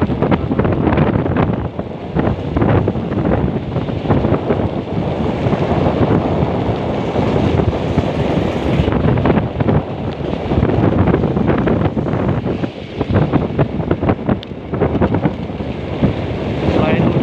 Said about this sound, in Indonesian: Hujannya semakin deras ini ya guys.